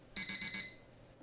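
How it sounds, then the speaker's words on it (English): A small timer gives four quick, bright beeps in an even rhythm, close and clear, then falls silent. "That was a little beeper."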